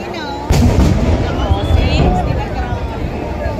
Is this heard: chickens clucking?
no